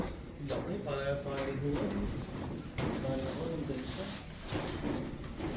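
Racing pigeons coo and shuffle inside a fancier's loft in Sacramento, a dense close layer of soft bird calls and wing or foot noises, with someone talking over them.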